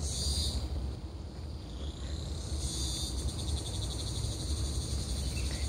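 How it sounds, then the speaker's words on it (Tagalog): Insects chirp in a dense, continuous high-pitched drone in a mountain forest in Hong Kong, pulsing steadily over a low rumble with no voices. "naririnig nyo naman yung mga huni ng mga insekto"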